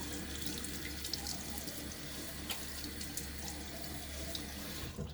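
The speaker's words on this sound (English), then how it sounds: "Water on my face." A bathroom tap runs steadily with cold hard water splashing in the sink before a shave, a constant close rush with small splashes throughout.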